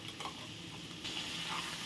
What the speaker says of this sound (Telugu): ఒక పక్క నుంచి ఇట్లా తీసి కలుపుకోవాలి